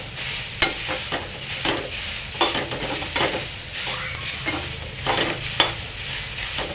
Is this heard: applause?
no